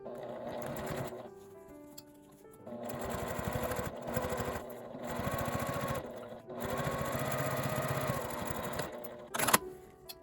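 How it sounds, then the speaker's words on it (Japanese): A sewing machine runs in several bursts while edge-stitching the folded-over seam allowance on a zipper pouch, its rapid needle chatter loud and close, with short pauses between runs and a sharp click near the end. "開いて縫い代は表側に倒して端ミシンをかけておきます。"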